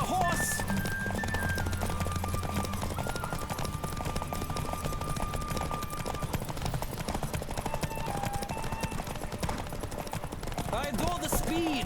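Galloping hooves from a horse in The Witcher 3 pound in a fast, continuous clip-clop, joined by a low drone early on and occasional in-game sound effects over the rhythm.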